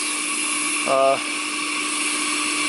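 A Hoover Constellation model 84 vacuum cleaner runs with a steady, droning whine throughout, rising briefly to a louder, tonal buzz for a moment near the one-second mark.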